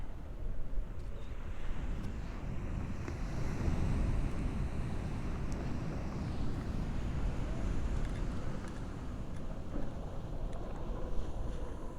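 Ocean waves wash and roll with a continuous rumbling surge, while wind buffets the microphone in uneven gusts, a broad, steady roar with no voices over it.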